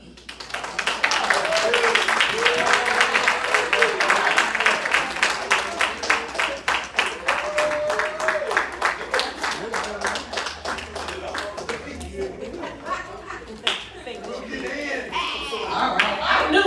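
Audience applause at a Black History program, steady clapping from many hands through most of the stretch, with a voice talking over it and the clapping thinning toward the end.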